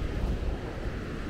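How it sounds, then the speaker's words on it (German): Light wind buffets the microphone on the Maspalomas dunes in Gran Canaria, a low, rumbling steady rush with a soft surf-like wash and no voices. "Ja, im Moment ganz leichter Wind"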